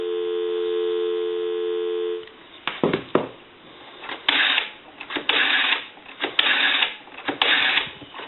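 A steady dial tone from a telephone line on a converted AE three-slot payphone, heard alone for about two seconds before it cuts off and a recorded time-and-temperature announcement follows.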